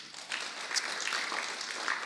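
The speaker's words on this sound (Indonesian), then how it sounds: "tepuk tangan untuk Tuhan Yesus." A crowd at a church youth worship service claps in a brief burst of steady, dense applause that stays at an even level and is fairly distant.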